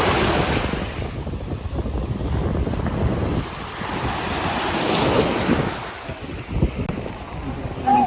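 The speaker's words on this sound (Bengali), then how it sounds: "অনেক বিশাল বিশাল ঢেউ মারতেছে।" Large ocean waves crashing and rolling on Ajman beach, a continuous loud roar of surf mixed with heavy wind buffeting the microphone, with faint voices in the background.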